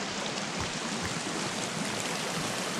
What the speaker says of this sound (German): Oh, gibt's hier einen Wasserfall?